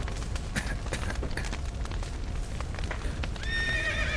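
Horses clop and neigh amid a busy Witcher 3: Wild Hunt game scene as they are let out, with rumbling booms in the background and a whinny rising near the end.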